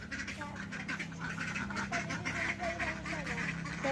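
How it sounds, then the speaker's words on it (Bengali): Several ducks quack repeatedly in quick, overlapping bursts, fairly close, over a steady low background hum. "হাঁসই তো সাতটা হাঁস বলে ছয়টায়"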